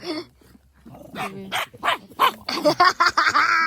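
Dogs barking at a campsite, a run of sharp close barks and yips that grows louder and quicker toward the end, with a low growl near the start.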